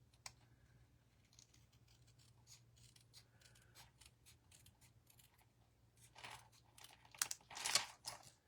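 Scissors cutting paper for handmade cards, quiet snips and paper rustle close by, growing louder with crinkly cuts toward the end.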